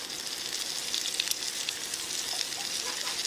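Mushrooms sizzle in a pan over an outdoor campfire, a steady, close, crackling hiss of frying with no talking.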